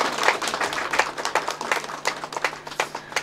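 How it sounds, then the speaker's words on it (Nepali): Guests at a Nepali Christian wedding ceremony clap by hand in a quick, uneven patter of many overlapping claps, moderately close and without talk. "हामी ताली बजाउने छौँ यो समय।"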